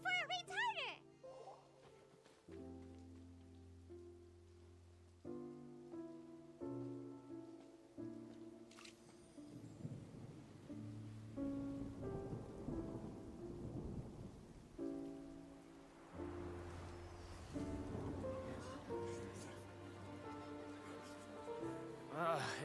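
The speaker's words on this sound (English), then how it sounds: "Oh, huh? It's raining!" Rain and rumbling thunder in the video game Genshin Impact roll softly beneath steady background music and vocal sounds, a faint wash of falling rain with low rumbles throughout.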